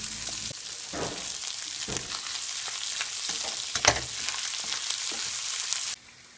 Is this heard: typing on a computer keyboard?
no